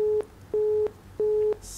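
Telephone busy signal from a failed call-in to a television program, three evenly spaced steady beeps with short gaps, clear and alone.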